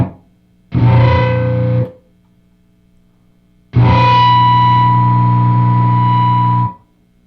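High-gain distorted electric guitar on the lead channel of an ENGL Savage MKII amp with a noise gate: a short chord burst, then a longer sustained ringing chord, with near-silence between as the gate cuts the noise; loud and close.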